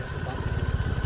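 A motor scooter idles close by during a riding lesson, a fast, even low putter running throughout while people talk over it.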